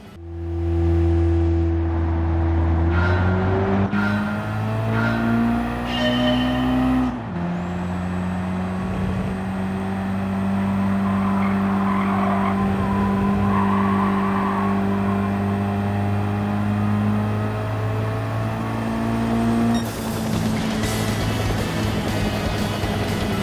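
An Audi TT in a Gran Turismo 7 license test runs at full throttle with a loud, sustained engine drone whose pitch climbs and shifts through gear changes. Tires squeal and skid briefly along the way.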